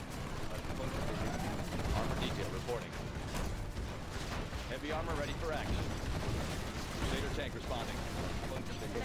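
Sniper gunfire during a GLA base raid in the strategy game C&C Generals Zero Hour, sharp repeated shots within a dense, continuous barrage of battle noise, loud throughout.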